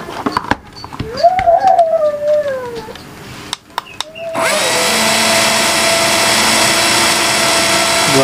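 A McCulloch 12V cordless drill is run at low speed. Its motor first rises and wavers in short bursts between clicks, then settles into a loud, steady whir close to the microphone. No one speaks.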